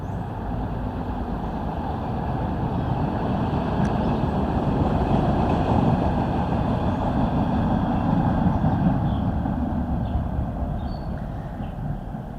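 A vehicle passes close by on a road with a heavy, broadband engine and tyre rumble. It swells gradually through the middle and eases off toward the end, with no talk over it.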